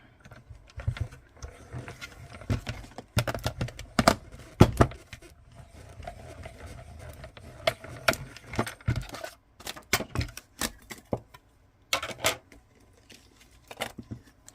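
A mini Stampin' Cut die-cutting machine works through paper, giving a run of sharp clicks, cranks and rattles in irregular bursts, fairly close and alone.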